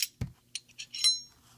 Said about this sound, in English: Disassembly for this gun, super easy. Pull back.